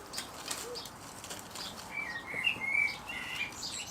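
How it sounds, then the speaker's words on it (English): Outdoors in a spring garden, a bird flaps its wings while bright chirps and calls ring out, faint and somewhat distant over a soft background hiss. "what's that bird?"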